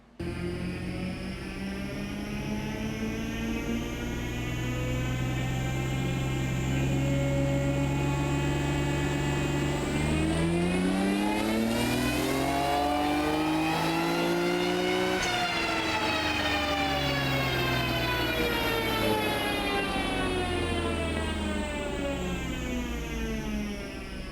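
A tuned JDM Nissan R33 Skyline GTR on a standalone ECU revs hard on a test run, loud and close, its engine note climbing and falling in long sweeps with a high whine rising over the steady roar.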